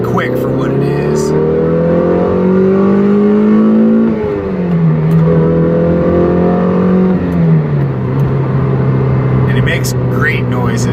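Toyota MR2 Spyder engine pulling hard from a stop through second and third gear, a loud close droning rise that drops at each shift and climbs again, with the exhaust note dominating.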